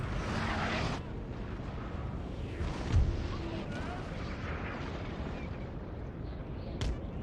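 Cannon artillery fires during a Napoleonic-era battle in Napoleon: Total War, heard as a muffled distant boom with a rumbling battlefield din around it, with a sharper crack near the end.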